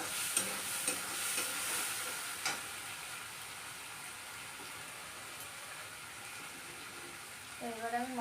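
A spice paste for khichuri sautés in a pan with a continuous soft sizzle and occasional stirring clatter, while a voice briefly speaks near the end.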